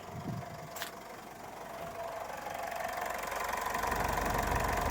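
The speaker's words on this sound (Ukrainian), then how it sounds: "Завів, можете послухати, як працює двигун." A Mitsubishi L200 pickup's diesel engine idles with a low, even rumble and faint knocking texture, growing slightly louder toward the end; no voices.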